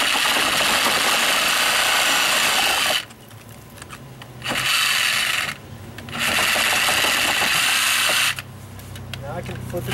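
A power tool blade cuts through a dry-rotted wooden window ledge in loud, harsh rasping bursts separated by brief pauses, with the tool dropping to a low idle between cuts.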